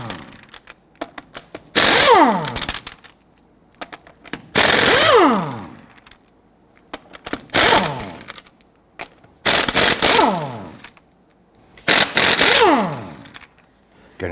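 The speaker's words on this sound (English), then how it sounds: "Using a 19mm socket, I'm going to go ahead and loosen and remove our lug nuts." Five loud bursts of rapid hammering from an impact gun loosen the lug nuts on a Hummer H3 with a 19mm socket. Each burst is a few seconds of rattling with the pitch winding down, and there are short pauses and small clicks between them.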